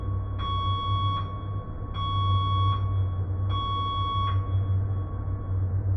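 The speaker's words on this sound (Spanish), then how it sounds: "La advertencia se levantará al sonido de 4 pitidos cortos, seguidos por uno prolongado." Emergency alert tone sounding three steady electronic beeps, each under a second long, repeated at an even pace over a constant low background hum.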